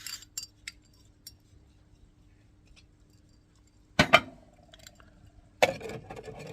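Metal clinking as a camping stove is set inside an Oex Heiro solo pot: faint scattered ticks in a quiet space, then two louder, sharper clattering bursts of metal on metal.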